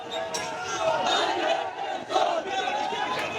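Protesters from a student group clash with police in Sylhet, a crowd shouting and yelling in continuous overlapping waves at moderate distance, with swelling bursts of massed voices.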